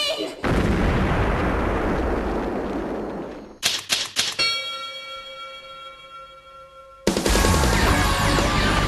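Loud booming cartoon cannon blast from the anime Soul Eater with a roaring rush, then a burst of rapid clattering hits and a ringing metallic tone, ending in another big explosive burst.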